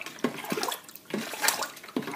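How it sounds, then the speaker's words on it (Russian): Baking soda gets stirred into about a litre of water, heard as repeated short sloshing and clinking splashes in an uneven rhythm, close by and with no talking. "на 1 литр воды нам надо кинуть ложку соды, тщательно разболтать"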